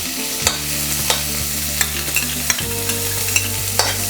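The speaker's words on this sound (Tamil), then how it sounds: "பட்டர் கரைஞ்ச உடனே நம்ம ஆனியன் போட்டுக்கலாம்" Half an onion frying in melted butter, a steady close sizzle broken by repeated scraping knocks of a spoon stirring the pan, with no voices.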